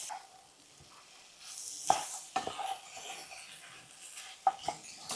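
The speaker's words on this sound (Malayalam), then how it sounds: "ഇനി നമുക്ക് നന്നായിട്ട് 2 മിനിറ്റും കൂടി ഇളക്കി കൊടുക്കാം." Chicken pieces coated in masala are stirred in a pan for a chicken roast, a spoon scraping and clinking against the metal in irregular strokes over a faint sizzle, fairly close and quiet.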